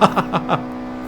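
An Audi S1 driven in Forza Horizon 4, its engine droning steadily with a few quick rhythmic revving pulses over a constant tonal hum, close and fairly loud.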